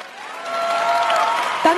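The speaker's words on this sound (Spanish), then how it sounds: "un aplauso para ellos" An audience applauds at the Premio Lo Nuestro 2024 Latin music awards ceremony, a broad sustained wash of clapping and crowd noise heard together with a voice talking.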